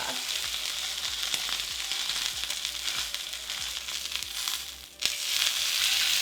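Real Kobe beef sears in a hot pan at home, fat melting off, making a loud, dense, continuous sizzle with faint crackles and a brief dip then surge, close up with no talk.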